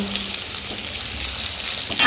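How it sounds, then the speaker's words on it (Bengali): Potatoes frying in a wok give a soft, steady close sizzle with light hiss, then a louder burst of crackle right at the end, no voices. "বসিয়ে দিয়েছি কড়াইতে আলু ভাজা আলুটা ভেজে নিই"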